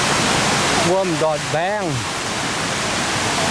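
A waterfall roars steadily with a constant broadband rush that fills the whole stretch, while a voice speaks briefly over it.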